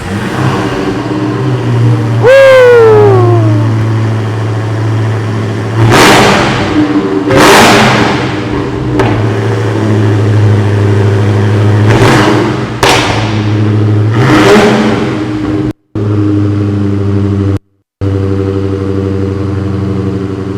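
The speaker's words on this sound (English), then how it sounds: "I'm going to be back here with the mics so that you guys can hear the exhaust." A 1,000-horsepower Dodge Hellcat engine revs repeatedly in loud, sharp bursts over a deep, rumbling idle, heard up close at the exhaust.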